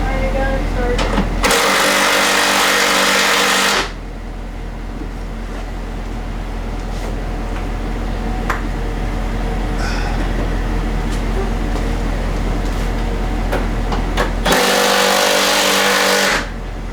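A van engine cranks and catches, then idles steadily with a low hum before revving up again near the end, loud and close, with people talking over it.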